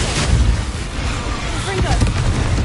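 A fire spell cast in the video game Hogwarts Legacy bursts with a loud fiery whoosh and crackling roar amid battle effects, sustained throughout, with a voice calling out over it.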